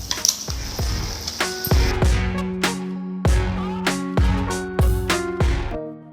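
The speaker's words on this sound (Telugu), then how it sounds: "గోంగూర బాగా వేయించుకున్న తర్వాత ఆయిల్ సపరేట్ అవుతుంది కదా" Ground gongura leaves fry in oil with softened tomato in a pan, a steady sizzle broken by repeated ringing metal-spoon knocks and scrapes as the paste is stirred, close and fairly loud.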